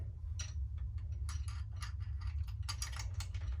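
Nut with washers being tightened on a plastic display stand, a series of close, crisp ratcheting clicks in irregular bursts over a low steady hum, with no talk.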